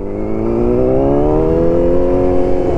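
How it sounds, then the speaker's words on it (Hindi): A 600cc motorcycle engine revs steadily, a loud, close, continuous whine that climbs gradually in pitch and holds strong. "600cc इंजन में ना भाई बहुत ज़्यादा पावर है"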